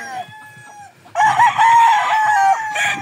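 Several chickens cluck and a rooster crows loudly and close by, the calls overlapping almost without pause.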